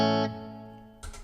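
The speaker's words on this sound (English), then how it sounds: "If I bring back the reverb, which is on 4" A single electric guitar chord through a Fender Mustang GTX amp with reverb rings out and decays slowly with a lingering reverb tail, followed by a brief muted strum.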